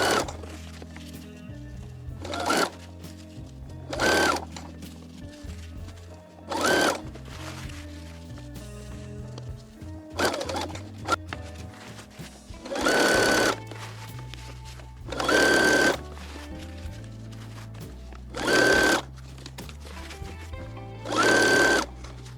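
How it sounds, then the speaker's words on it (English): Sewing machine stitching box pleats in fabric for a Pink Diamond cosplay from Steven Universe, running in several short bursts of a second or so each, separated by pauses with quiet background music throughout. "I'm also going to base stitch this down so that this stays flat while I'm ironing it."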